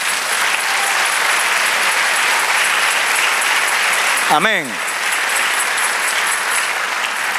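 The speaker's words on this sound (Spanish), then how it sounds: "Denle un aplauso al Señor." A church congregation applauds steadily throughout, a dense even wash of clapping with a single voice briefly calling out over it partway through.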